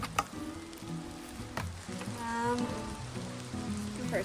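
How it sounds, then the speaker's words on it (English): Rain falling at a wilderness campsite on a canoe route in Opemican, Quebec, a steady crackling patter like drops on a tarp or leaves, continuous and close with a few sharper taps, no one talking. "Now the rain's coming."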